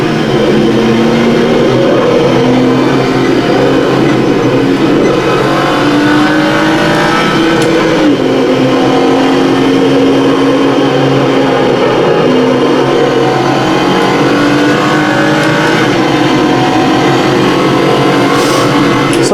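GT3 race cars at the Barcelona circuit in Assetto Corsa, a loud, steady engine drone with gliding pitch as the revs climb and shift, continuous throughout with no talking.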